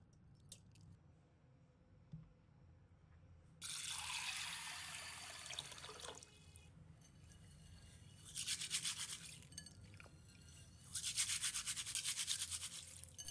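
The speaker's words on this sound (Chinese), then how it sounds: "双手合拢轻揉绿豆，让它们在掌心跳舞。 洗掉表面粘附的泥土和碎屑" Hands rub and rinse mung beans in a basin of water, making several bursts of wet, gritty swishing and squishing with quieter pauses between them, close up and with no voices.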